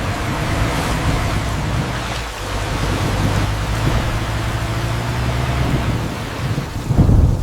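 Heavy rain falls steadily over a muddy cotton field, a dense continuous wash of noise with low rumbling underneath and no voices.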